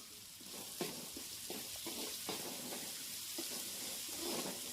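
Onions and tomatoes sautéing in a pan for a Chettinad prawn gravy, a soft continuous sizzle with repeated spatula scrapes and stirring knocks, close but quiet.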